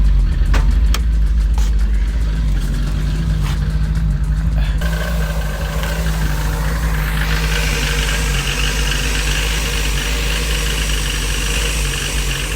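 A Toyota AE86 engine runs with the hood open, shaking noticeably after a new distributor was fitted; a close, steady idling hum with a shifting, rougher texture partway through and no talking.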